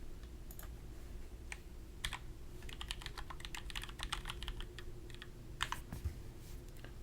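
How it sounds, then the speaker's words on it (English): A typing test on a computer keyboard: rapid, irregular bursts of crisp key clicks in a quiet room, faint and close, with short pauses between flurries. "let me just record a quick typing test"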